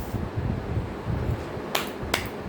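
Two sharp, close hand claps sound about half a second apart during a sound-guessing memory activity, standing out crisply over a low, muffled background rumble.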